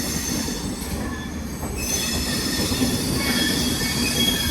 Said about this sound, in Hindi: पहले डिपार्चर देख लीजिए अपनी विक्रमशिला एक्सप्रेस का।